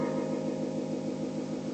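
A clean guitar tone from an Acoustic Reverbrato oil can delay pedal rings out and trails away in a smooth wash of repeating echoes, sustained and even throughout.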